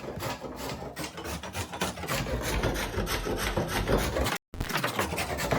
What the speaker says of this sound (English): Now you're going to need to grate the carrots.